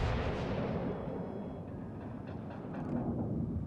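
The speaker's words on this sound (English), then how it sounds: "We'll go ahead and open up the salvo on him." Battleship Iowa's main guns fire a salvo in a naval combat video game: a loud, dense booming rumble that fills the whole stretch and rolls on without pause, with no voices.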